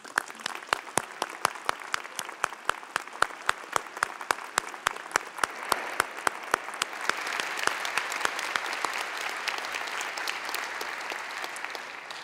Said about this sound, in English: I want to give all of you a big round of applause.